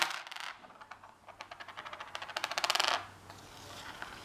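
Five dice clatter together as they are rolled across a table for a board wargame set at Tarawa 1943, a dense burst of sharp plastic clicks that quickens and builds before settling, then a faint stray tap.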